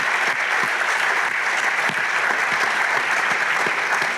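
Loud, sustained audience applause at a panel discussion on sports diplomacy, a dense continuous wash of clapping from a sizeable crowd with a few sharper claps standing out.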